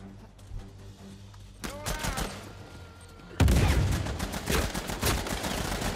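Blind-fire gunshots in an Uncharted 4 multiplayer match: a few scattered shots, then a sudden dense burst of rapid gunfire that keeps going loudly to the end, no talk.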